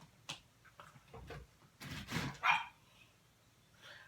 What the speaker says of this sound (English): She'll bark at a leaf going by. She's a Chihuahua.